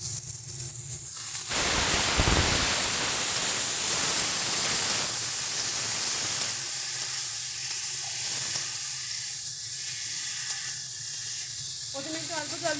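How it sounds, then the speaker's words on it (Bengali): Water pours into a hot pan holding boiled taro and rohu fish curry, setting off a loud, broad sizzling hiss that surges and then settles into steady bubbling steam noise, with a voice faintly over it. "পরিমাণ মতো জল দিয়ে দেবো"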